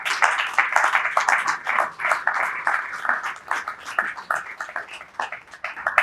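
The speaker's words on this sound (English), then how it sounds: "we need to give another round of applause" A conference audience at a strategic finance summit applauds after a keynote address: a dense, steady wash of many hands clapping that continues for about six seconds at a fairly even level, with no speech over it.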